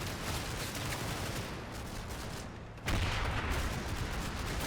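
Gunfire from a WWII war video game: a dense, continuous rattle of distant shots and bursts, swelling into a heavier, louder barrage about two-thirds of the way through, with no talk.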